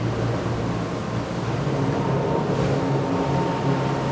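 A Nimbus W11 motor boat runs flat out near 49 knots, its engines giving a loud, continuous roar blended with rushing water and wind hiss, steady and close with no voices.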